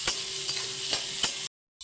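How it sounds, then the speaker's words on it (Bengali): Soybean chunks crackle and sizzle in hot oil, with a few sharp clinks of a spatula stirring the pan, then a sudden short silence before the frying noise resumes. "একটু বেশ ভালো করে ভেজে নেব।"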